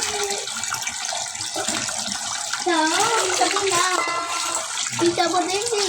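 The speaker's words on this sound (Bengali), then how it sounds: "সব কাটতে হবে, সেজন্য মাছগুলো আগে ধুয়ে নিচ্ছি" Whole fish being rinsed under running water in a kitchen sink, with a steady splashing stream and some louder gushes midway, while a person talks in Bengali over the water.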